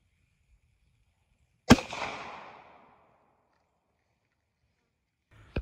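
A single sharp 9mm shot from a Glock 43 compact pistol with a 3.39-inch barrel, firing Winchester Ranger T-Series 147-grain rounds from 10 feet. A loud crack rings out with a short decaying tail, then a faint click follows near the end.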